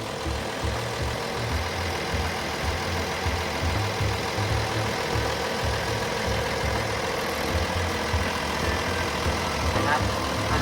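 Komatsu WA470-8 wheel loader with a 6D125 turbo diesel idling, a steady low rumble close by for about ten seconds, with someone talking over it.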